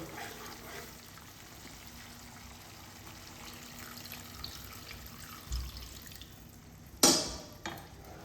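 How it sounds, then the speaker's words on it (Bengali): Water is poured into a pan of mustard and poppy seed paste cooked in oil with sugar, a short bright splash and gush near the end after quiet kitchen background. "এবার আমি এর মধ্যে জল অ্যাড করে দেবো"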